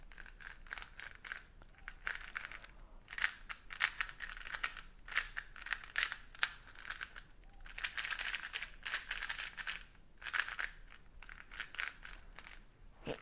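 A GAN Air UM magnetic speed cube is turned by hand, giving rapid bursts of light plastic clicks and clacks, close and fairly quiet, with short pauses between runs of turns.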